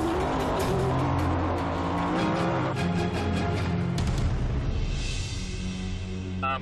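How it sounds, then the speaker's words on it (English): A Ford F-150 EcoBoost truck races in an off-road Baja event at speeds up to 100 mph: loud, continuous engine roar with shifting pitch and rushing wind and tire noise, no talking. "The EcoBoost engine powers the F-150 past all stock full trucks."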